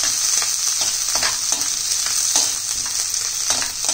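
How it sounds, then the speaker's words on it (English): Garlic and green chilies sautéing in a pan for bhindi kurkure, a bright continuous sizzle with repeated scraping stirs of a spatula, close and steady with no talking. "garlic and green chilies, and saute it for 1 minute"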